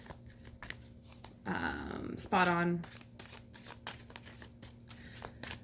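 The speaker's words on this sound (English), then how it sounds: "I think we shuffled enough" A Game of Thrones tarot card deck is shuffled in two quick riffling bursts, close and fairly loud, with someone speaking briefly before and after.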